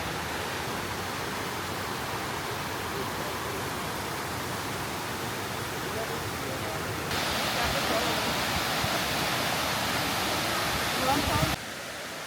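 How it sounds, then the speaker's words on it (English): A waterfall near Luang Prabang, Laos, gives a continuous rushing roar of falling water that holds steady, grows somewhat louder partway through, then drops back near the end. "it is the waterfall"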